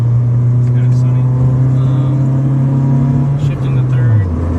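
A 1997 Honda Civic DX with a D16Z6 engine pulls under acceleration, its steady droning engine tone rising slightly in pitch. The sound is loud and close, from inside the car, and ends with a brief dip near the end.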